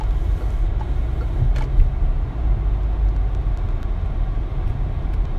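Peugeot 2008 GT with a 1.5 diesel engine driving, a steady low engine and road rumble heard from inside the cabin, continuous and moderately loud with no talking.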